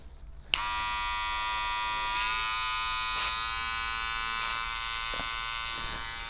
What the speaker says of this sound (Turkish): mikrofona yakın olduğu için makinenin sesi çok gürültülü gelebilir